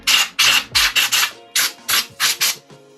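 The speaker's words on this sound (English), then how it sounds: "I've got our airline as well. Give that a quick blow down there." Short bursts of compressed air from a shop airline blow a racing brake caliper clean, about eight sharp hissing puffs in an uneven rhythm, close and loud.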